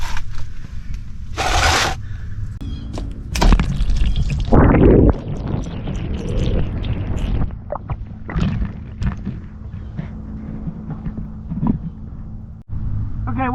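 Water drains out of the hot and cold low point drains on a Sonic travel trailer being winterized, a steady splashing pour with scraping and dripping bursts, fairly close and continuous throughout.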